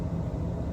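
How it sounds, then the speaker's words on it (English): A steady low rumbling hum from a running air conditioner air handler unit, constant and droning with no breaks or voices. "That is the sound of a not so quiet air handler unit."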